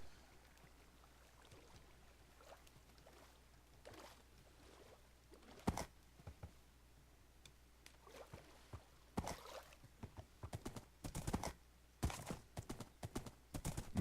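Horse hooves clop in irregular bursts in Minecraft, faint at first then sharper and closer, with a snort or whinny mixed among the steps.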